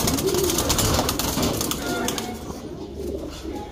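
Pigeons cooing in a loft or coop, soft repeated coos mixed with rustling and occasional wing flaps, steady and fairly close throughout.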